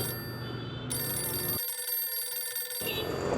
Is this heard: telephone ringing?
yes